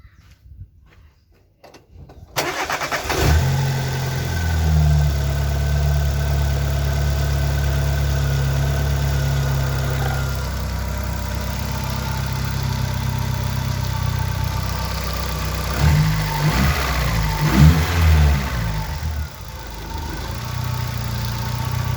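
An Opel Corsa B petrol engine cranks and catches after a short silence, then settles into a steady, even idle after an idle control valve service, with a brief fluctuation midway and a near, continuous hum throughout.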